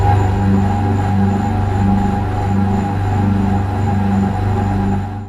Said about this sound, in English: Here is an example of the portal emission sound.